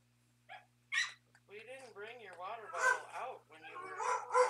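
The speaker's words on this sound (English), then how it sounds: "Because I got a dog barking." A dog barks and yips in several short bursts close to the microphone, mixed in among people talking during an online rhythm game session.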